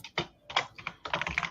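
A loud computer keyboard clatters under quick typing, with close, sharp key clicks in uneven bursts and a denser run of strokes at the end.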